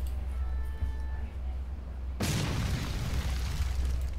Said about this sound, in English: Her first spell is Bukayade, which is her fire explosion.